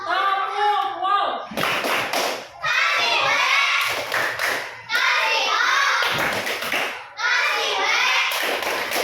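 A class of primary-school children does the 'tepuk wow' clapping chant in a classroom, with bursts of rhythmic clapping and chanted voices repeating in several waves.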